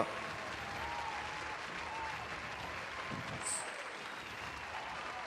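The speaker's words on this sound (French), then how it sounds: "Je vous demande encore un tonnerre d'applaudissements." Crowd applause cheering a tournament final in a Pathfinder tabletop game, a steady dense clapping that holds at an even level for several seconds.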